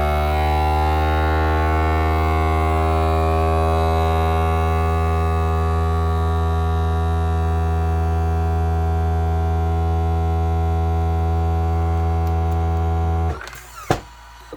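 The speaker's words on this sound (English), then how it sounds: "it should vacuum seal all the air out of there." A vacuum sealer pumps air from a jar with a loud, steady mechanical hum that drones on unchanged for about thirteen seconds, then cuts off abruptly with a brief click and rattle.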